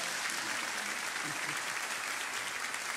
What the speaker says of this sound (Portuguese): Uma salva de palmas para o Paulinho.